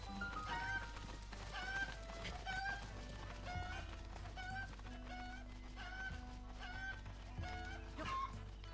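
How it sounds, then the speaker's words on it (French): Chicken clucking in the video game Zelda: Breath of the Wild, a series of short, chirpy clucks repeating every second or so over a steady low background hum, with no talking. "Il y a un poulet."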